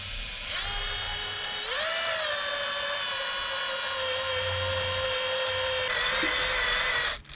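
An electric drill spins the oil pump to prime a VW VR5 engine in a Golf 3, a steady high-pitched whine that rises in pitch as the drill speeds up, then cuts off abruptly at the end.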